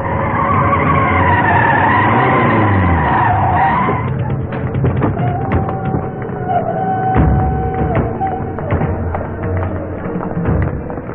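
A car drives in a Tamil film scene, tires skidding loudly for the first few seconds before giving way to thumps, taps and a short tonal whine, with engine rumble throughout.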